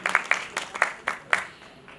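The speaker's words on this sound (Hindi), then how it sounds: "एक बार जोरदार तालियां इन दोनों लोगों के लिए बजा दें" Scattered hand claps from a small crowd at a university poetry recital, several sharp bursts spread unevenly over a couple of seconds, fairly faint and thinning out toward the end.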